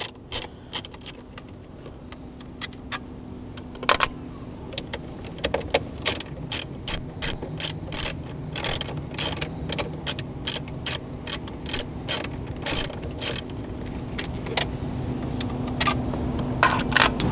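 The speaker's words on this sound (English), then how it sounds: "we'll use the extension with our 10mm socket to remove them" A ratchet with an extension and a 10mm socket backs out bolts inside a 2016-2021 Toyota Land Cruiser's center console, producing close, crisp bursts of rapid clicking with short pauses between strokes.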